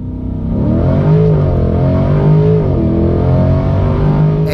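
A Chevrolet C8 Corvette accelerates hard, its engine note climbing and dropping through gear changes in a loud, continuous close-up roar from inside the car with no talking.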